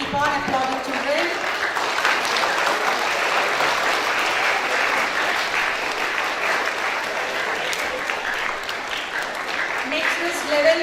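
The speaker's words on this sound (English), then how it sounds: "Keep on applauding, children." Children applaud at a school science day prize ceremony, a continuous dense patter of many hands clapping loudly throughout.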